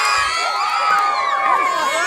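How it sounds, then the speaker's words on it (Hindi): Large, noisy crowd at a village cricket final between Bahadurpur Bazar and Bhelaipur, with steady overlapping shouts, children's cries and whoops, loud and close throughout. "देख सकते हैं कितना भीड़ है"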